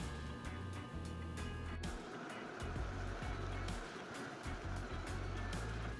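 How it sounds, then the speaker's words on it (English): A blender runs steadily as corn is pureed until smooth, a loud continuous motor roar with brief pulses and dips, heard close up. "Now we're just gonna blend our corn till smooth."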